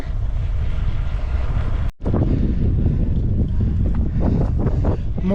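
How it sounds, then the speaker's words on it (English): Strong breeze on a cool, partly cloudy day gusts steadily outdoors, roaring as a broadband rush across the microphone with a brief dropout, constant and close throughout. "It is quite nice, bit warm, very breezy, but the wind's cold"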